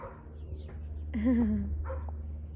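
A female dog belonging to a neighbour barks and whimpers nearby, a few short yelping barks and a drawn-out whine over a steady low background hum.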